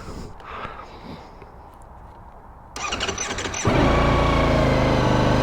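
Ducati Panigale V4 S motorcycle starting up: a whirring starter crank, then the engine catching into a loud, steady idle roar up close.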